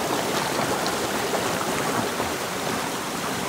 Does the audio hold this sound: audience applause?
no